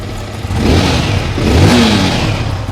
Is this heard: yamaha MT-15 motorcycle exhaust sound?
yes